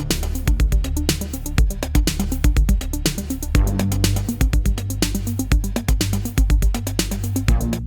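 An 80s-style synth track built in Serum with Roland drum machine sounds drives along with punchy kick and snare hits, tonal tom-like drum fills, and layered synth parts, steady and loud with no voices.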